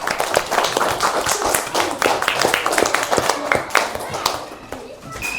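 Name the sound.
classroom applause, children clapping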